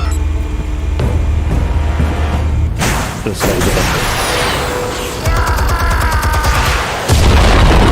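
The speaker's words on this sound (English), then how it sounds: "Explosives armed. Fire when ready." Explosives detonate in Batman: The Telltale Series, with loud booms and rumbling blasts that shift in waves and end in a heavy final hit, with no voices.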